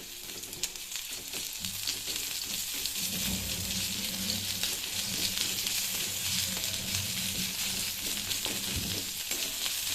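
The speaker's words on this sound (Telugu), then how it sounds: "ఆనియన్స్ వేగుతున్నాయి కదా, ఇందులోనే కొంచెం అల్లం వెల్లుల్లి పేస్ట్," Onions fry in hot oil with ginger garlic paste added, giving a continuous crackling sizzle with occasional stirring scrapes, steady and fairly soft throughout, no voices.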